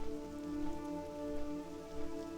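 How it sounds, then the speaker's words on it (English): Rain falling in the World of Warcraft game zone Mount Hyjal, a steady even patter on surfaces over a soft tonal music bed, with no talking. "It's raining."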